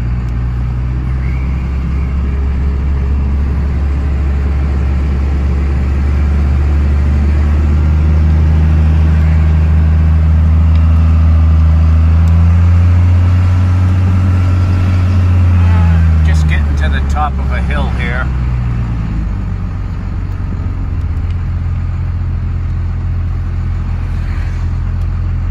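A 1993 Dodge Ram W250 4WD pickup truck, an older first-generation barn find, drives with a loud, continuous engine drone and road noise that swells and eases, while a voice talks over it.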